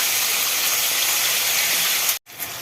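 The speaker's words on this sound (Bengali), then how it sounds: "ক্যাপসিকাম আর পেঁয়াজগুলো আমি এরকম হালকাই ভেজে নিচ্ছি" Capsicum and onions fry lightly in a pan, giving a loud, steady broadband sizzle that holds evenly, then cuts out abruptly for a moment and resumes near the end.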